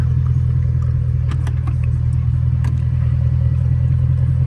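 A supercharged 5.0 V8 Range Rover idles up close, a loud, steady, deep rumble with a few light clicks over it.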